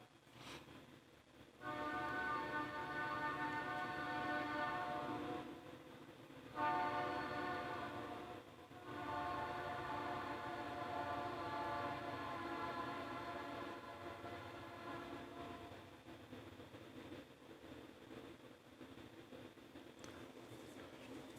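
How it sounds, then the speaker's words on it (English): A train in the video game Lost Judgment pulls into a station with a long, steady horn-like tone and a rumbling roll, broken by two short gaps, then fading slightly toward the end, with no speech. "I'll wait for the train."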